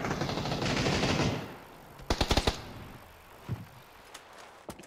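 Gunfire in PUBG, a rapid burst of four or five shots after a loud noisy stretch, followed by a few scattered single impacts and thuds, moderately near and with no talk over it.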